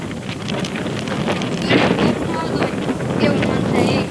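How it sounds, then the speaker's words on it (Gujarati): Strong wind gusts outdoors, roaring steadily and buffeting the microphone with a rough, close rumble that swells and eases throughout. "બહુ જાજો પવન"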